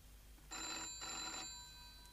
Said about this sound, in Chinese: 太太电话。